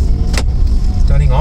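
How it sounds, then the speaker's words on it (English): Engine and road noise from a Tata Nexon XZA+ automatic car pulling away and accelerating, a steady low drone with a rising tone near the end and a brief click early on, heard from inside the cabin. "So now let's start the acceleration."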